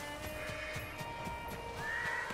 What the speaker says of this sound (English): The horse is freaking out.